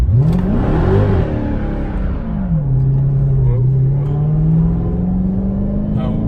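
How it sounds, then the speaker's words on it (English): A Dodge SRT Hellcat Charger launches hard from a standstill in second gear, its loud engine roar climbing in pitch, dipping, then settling into a sustained drone, with a voice speaking over it. "We're gonna go second gear in drive and then hit the gas."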